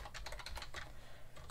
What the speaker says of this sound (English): We can actually type this in manually.